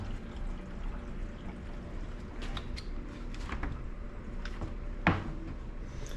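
Water runs from a tap in a condo as a steady, faint hiss, with a few soft clicks and knocks over it.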